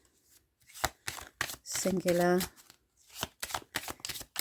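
Tarot cards riffle in an overhand shuffle, with short papery flutters broken up by a voice speaking up close.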